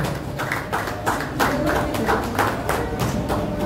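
Applause at a book launch award ceremony in Dombivli, steady rhythmic clapping from an audience throughout, moderately loud and close, with no talk over it.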